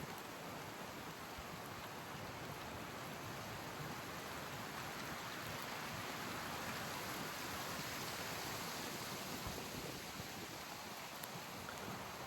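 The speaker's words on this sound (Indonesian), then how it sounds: "Dan sekarang kondisinya lagi hujan teman-teman" Steady rain falls on a mountain trail near the summit of Paniisan, a faint, even hiss of drops that continues unbroken with no voices.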